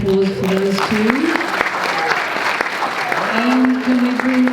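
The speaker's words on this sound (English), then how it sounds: "can we have another round of applause for those two?" Audience applause filling a venue after a live performance, steady and loud throughout, with a voice speaking over it and tones from a held note or microphone.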